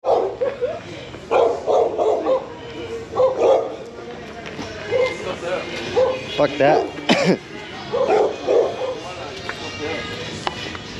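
Dogs bark on a street at night in Cancun's hotel zone, sharp bursts of barking repeated through the clip at moderate distance, with a voice speaking briefly among them.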